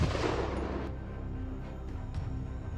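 A rifle fires at wild monkeys in rugged mountain forest, a sharp boom up front followed by decaying rumble and a few fainter distant cracks.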